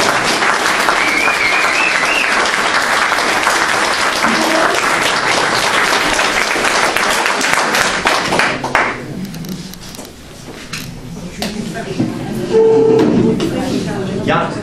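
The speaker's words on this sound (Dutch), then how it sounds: "dan zorgt de zaal voor een applaus" A hall audience claps loudly at a neighbourhood-aid pin award ceremony in Kijkduin, dense applause with cheering voices and talk running through, thinning toward the end before a brief renewed burst.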